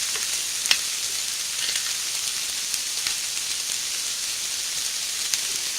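Egg fried rice sizzles steadily in a hot pan while being mixed, an even, bright hiss with occasional light clicks of the spoon, close and continuous with no talking.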